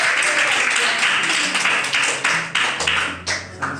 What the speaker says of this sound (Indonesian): Sampai sekarang masih bisa tepuk tangan.